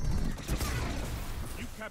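Rapid gunfire in the Destiny 2 PvP shooter, using the Perfect Paradox shotgun, crackles in dense bursts across the whole moment, with someone talking over the shots.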